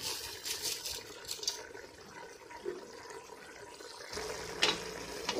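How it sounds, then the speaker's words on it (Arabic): Hot water is poured into a pot of browned meat, onion, fava beans and lentils. It makes a soft, low splashing and trickling that swells near the end, with no talk. "وغنمرق بالماء سخون باش يطيب ليا دغيا"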